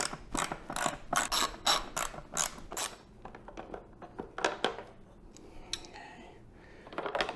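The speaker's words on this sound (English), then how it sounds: "I find a ratchet with the Phillips attachment is really helpful" A ratchet fitted with a Phillips bit turning out screws on a Yamaha MT-07 motorcycle airbox, its quick clicking pawl loud and close in bursts, then fading into slower, quieter clicks and light mechanical handling.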